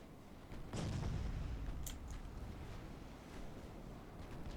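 Naval guns of a dreadnought-era warship firing during a fleet battle in a strategy game, a deep rumbling boom at distance over steady wind-like sea noise, with faint later reports.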